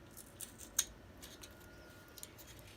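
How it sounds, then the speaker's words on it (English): Scissors make a small V notch in a cord wrap craft project, giving one sharp snip and a few faint clicks against a quiet room. "So I just take my scissors, and it doesn't have to be perfect, but just a little V."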